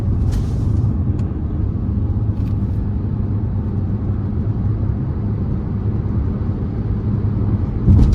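Cabin sound of a 2023 Ford Escape Hybrid ST-Line Select AWD with the 2.5 engine accelerating moderately on a test drive: a steady, loud low engine and road rumble with no talking.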